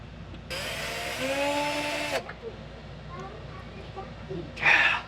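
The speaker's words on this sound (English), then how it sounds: "Now I have to figure out how to drill a centered hole." A power drill whines steadily for about a second and a half, its pitch sliding slightly, then cuts off, followed by a brief burst of noise near the end.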